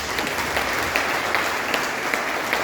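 A dense, loud burst of applause fills a church congregation, many hands clapping together in a continuous roar with faint rhythmic accents.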